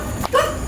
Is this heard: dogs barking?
yes